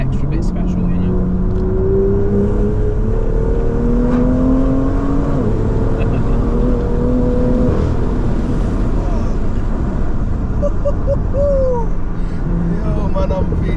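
A Litchfield-tuned BMW M2 accelerating hard, its engine note rising steadily through the gears with a loud, continuous road roar beneath, while people talk over it inside the car.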